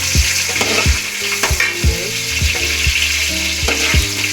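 Onion slices frying in a pan for chicken curry, a steady loud sizzle with rhythmic scraping stirs every half second or so, close and continuous without any voices.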